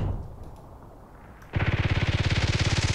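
Automatic gunfire from the first-person shooter game Contract Wars starts abruptly after a quiet stretch and runs as a rapid, even burst of loud repeated shots for the last second and a half.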